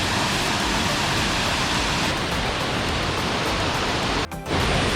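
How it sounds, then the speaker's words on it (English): Waterfall at Coors roaring in a dense, steady wash of broadband noise, loud and close, with a brief dip near the end before the rush resumes. "Hung out here for a little while, taking in the waterfall."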